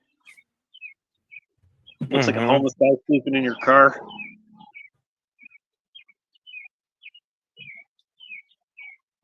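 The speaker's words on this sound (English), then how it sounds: "the birds are chirping, aren't they? Loud birds." Small birds chirp in short, repeated high tweets scattered across the whole stretch, fairly faint and distant, while a person speaks loudly in the middle.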